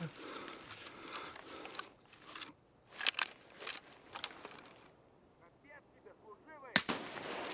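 Sniper rifle fire in the video game Escape From Tarkov, PvE mode: a few sharp, booming shots spaced seconds apart, mixed with game ambience and a voice talking.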